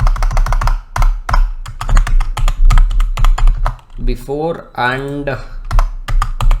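Fast, close typing on a computer keyboard clatters in rapid bursts, with someone speaking over it briefly in the middle.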